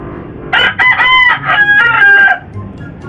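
A prized pet rooster crows once, close and loud, a full cock-a-doodle-doo lasting about two seconds with a faint farmyard murmur behind it.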